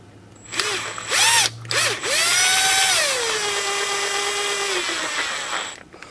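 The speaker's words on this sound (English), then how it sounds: "go ahead and get your screw gun ready" Cordless screw gun starting hub bolts on a Ford Super Duty 4x4 front hub and unit bearing: close, loud whining bursts of the motor, short blips first, then a longer run that winds down in pitch, with no talking.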